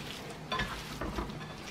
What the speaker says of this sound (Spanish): Revolviendo